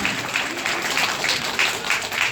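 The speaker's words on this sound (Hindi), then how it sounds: "इनकी खिदमत में ताली बजा दीजिए" An audience claps steadily at a retirement farewell ceremony in India, producing continuous applause at moderate distance with some voices mixed in.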